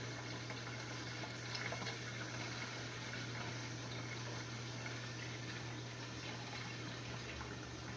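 Jars of carrots in a canning pot of boiling water bubble steadily, a dense continuous simmering wash with a low hum running underneath and no talking.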